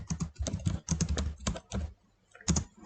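Quick bursts of keystrokes on a computer keyboard, entering figures into an Excel spreadsheet: soft, close clicks in short clusters with brief pauses between them and no talking.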